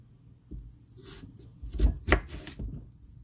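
A few knife strokes chop through a firm radish on a cutting board, spaced irregularly and heard up close in a quiet room.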